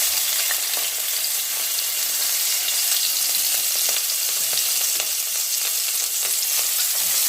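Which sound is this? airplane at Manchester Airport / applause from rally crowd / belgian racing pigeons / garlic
garlic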